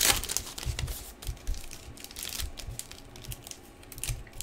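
2016 Panini Diamond Kings baseball hobby packs are torn open during a box break, with close, loud foil wrappers crinkling and crackling continuously alongside papery rustles and handling noises.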